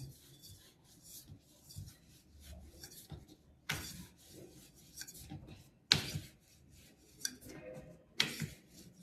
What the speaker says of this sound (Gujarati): હવે આનો રોટલો વણી લેવાનો.